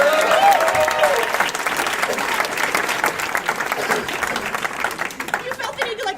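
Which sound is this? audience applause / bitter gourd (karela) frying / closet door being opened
audience applause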